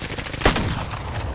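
A single sharp sniper rifle shot rings out in the video game Warzone, a loud close crack with a short echoing tail over steady in-game background noise.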